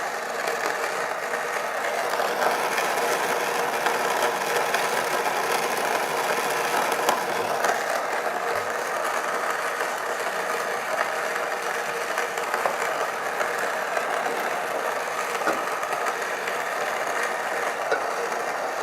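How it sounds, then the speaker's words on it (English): An xBloom Studio coffee grinder grinding beans at a lowered RPM setting, giving a steady, even whirring drone that stays level for the whole stretch with no talk over it. "and it's going to begin grinding."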